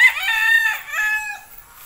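A medium-sized gamefowl stag crows close up, one drawn-out strained crow breaking into a second shorter phrase, loud and clear against quiet.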